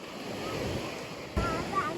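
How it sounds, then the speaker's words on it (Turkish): Sea waves break and wash at a beach in a steady, rushing roar with gusty wind noise on the microphone, swelling louder partway through. "Kocaman dalgalardan."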